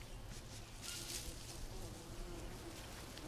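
Steady bee buzzing in a jungle survival video game set in the Amazon, like a swarm droning nearby, faint and continuous under a soft background hum.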